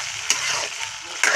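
Bottle gourd and sardines stirred in a frying pan, a spatula scraping twice against the pan over a continuous hiss of sizzling oil, close and clear with no talking.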